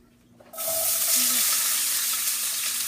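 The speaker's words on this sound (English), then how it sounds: "So now we're putting my veggies in the pan." Vegetables hit a hot pan with extra virgin olive oil for jambalaya and burst into a loud, steady hiss that starts suddenly after a brief quiet moment and keeps sizzling close up.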